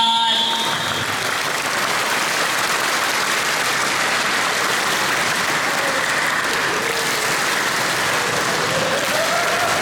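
A dense crowd of employees at a company fast-breaking gathering claps steadily throughout, a broad wash of applause without distinct separate beats, with faint tonal hum beneath.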